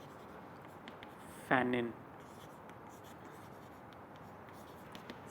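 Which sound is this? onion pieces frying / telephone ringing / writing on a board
writing on a board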